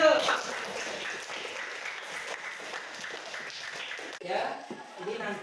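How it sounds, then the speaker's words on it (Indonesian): Students in a classroom clapping, scattered hands forming a brief round of applause under a voice, which continues talking over it, with a sharp break near the end. "Tepuk tangan dulu."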